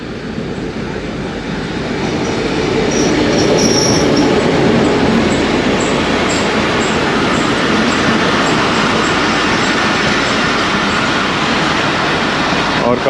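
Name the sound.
Marvi Passenger train hauled by GMU 15 locomotive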